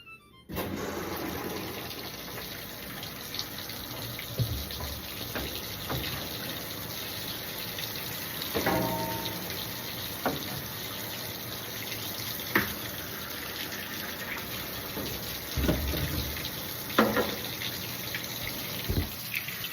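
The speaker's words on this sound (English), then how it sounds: "it's going to get loud now because I'm going to start the water" A household tap runs steadily into a washer or sink for a towel rinse, a loud continuous gush with occasional clunks and splashes, no voices.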